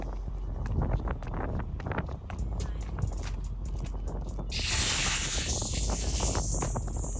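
Strong gusty wind at a beach buffets the microphone in a continuous rough roar, growing harsher and hissier toward the end.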